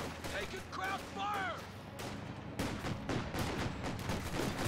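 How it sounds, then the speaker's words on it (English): A half-track fires its gun in a Company of Heroes battle, with bursts of gunfire rattling under voices and radio-style chatter; the shots grow denser and louder in the second half. "Black half track firing away"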